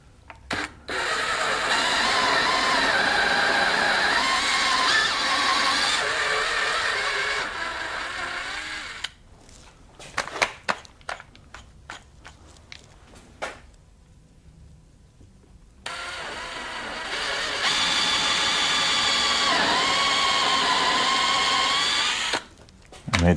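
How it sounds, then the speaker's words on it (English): A power drill whines in long sustained runs into wood, pausing with clicks and rattles between them, then drilling again; close, no talking. "we are going to drill a little bit deeper"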